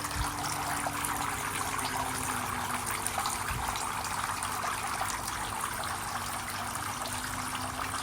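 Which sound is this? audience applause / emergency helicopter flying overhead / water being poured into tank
water being poured into tank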